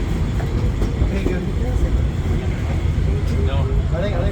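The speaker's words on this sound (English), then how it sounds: "As we roll into Main Street, USA, please remain seated until the train comes to a full and complete stop." The Magic Kingdom railroad train rolls into the Main Street, USA station with a steady, close rumble and faint clattering of the cars, and voices murmur over the continuous noise.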